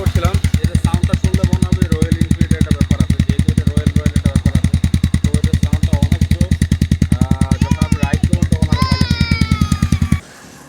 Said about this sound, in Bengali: আমার বাইকের সাউন্ডটা শুনি